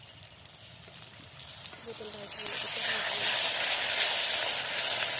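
Egg curry masala sizzles in a pan, quiet at first with faint voices, then water poured in turns it into a loud, steady steaming hiss.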